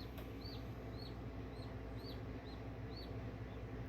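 Tiny chicks peep inside unhatched eggs in an incubator at home, a few of them already pipping; thin rising chirps repeat roughly every half second, faint and close, over a steady low hum.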